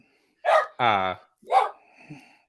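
Dog barking nearby indoors, a few sharp barks with a brief whine in between.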